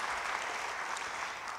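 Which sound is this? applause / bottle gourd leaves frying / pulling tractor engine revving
applause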